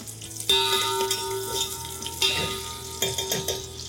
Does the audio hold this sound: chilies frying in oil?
yes